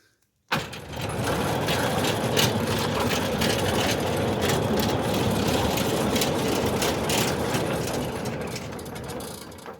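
A Centurion D6 Smart gate motor drives a gate along a painted rail, starting abruptly after a moment of quiet and then holding a steady, loud mechanical whir with faint rattling and clicking for several seconds before easing slightly at the end.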